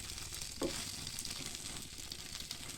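Stuffed chicken bread cooks in a single pan on a low flame, with a faint, steady sizzle and one brief knock near the start.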